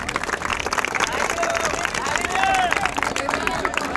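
A crowd gives loud, sustained applause for a boy back from CISF training, clapping and cheers mixed with chatter and voices throughout.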